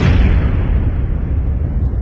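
A huge explosion gives a deep, loud, continuous rumbling roar that fills the whole moment, then slowly dulls as its upper hiss fades away.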